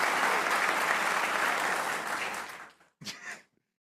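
A burst of applause and clapping from a group celebrating India's T20 World Cup win over Pakistan, loud and dense for a few seconds before stopping abruptly, followed by a brief voice.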